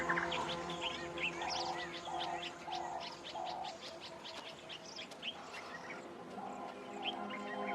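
Dense chorus of quelea birds gathering in a large flock at sunset, overlapping chirps and calls at a moderate distance with repeated cooing-like notes, continuous throughout.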